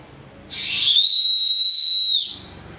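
One long, loud, piercing blast from an emergency survival whistle sounds close by, steady and shrill for nearly two seconds before cutting off.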